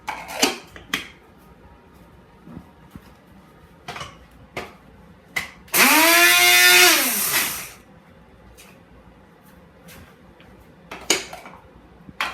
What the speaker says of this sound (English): I will blend it all together